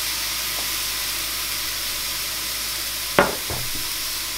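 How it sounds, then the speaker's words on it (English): Onions caramelize in a pan with beer added for a steak sandwich, giving a steady soft sizzle and hiss throughout, with a brief utensil clatter near the end. "to really caramelize your onions, best to add a bit of beer in there"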